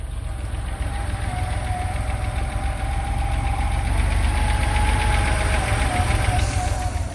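A 1984 Porsche 911 Targa's air-cooled flat-six idles steadily and loudly close by, a smooth continuous rumble with a faint high whine running through it.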